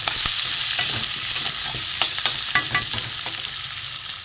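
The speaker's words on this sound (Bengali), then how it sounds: "আলুটা ভালো করে এর সাথে ভেজে নেব।" Large chunks of potato fry and get stirred in a pan for a spicy sea crab curry, a steady close sizzle broken by repeated scraping and clinking stirring strokes, with no voices.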